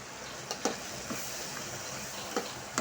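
Carrots and mixed vegetables sauté in a pan for vegetable biryani under a steady low sizzle, with a handful of light ladle taps and scrapes spaced irregularly, no voices.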